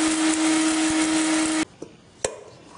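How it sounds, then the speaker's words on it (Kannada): Mixer grinder jar powdering warm roasted chana dal for panchakajjaya, a loud steady whirring motor drone that runs continuously, then cuts off abruptly, followed by a couple of faint clicks and knocks. "ಈಗ ಮಿಕ್ಸಿಗೆ ಹಾಕಿದ್ದೀನಿ, ಇದು ನೈಸ್ ಆಗಿದೆ"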